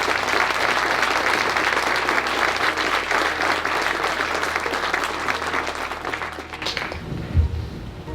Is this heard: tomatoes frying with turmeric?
no